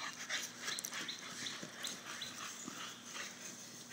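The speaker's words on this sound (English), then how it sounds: "So first we have a cute bulldog that will literally love you to death" A bulldog on a chain pants close by in quick breaths with small yips and whines, moving about between them.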